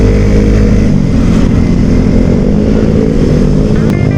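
Suzuki Satria F motorcycle ridden along a smooth mountain road, its engine droning loud and steady from close by, with constant rumbling road and wind noise throughout.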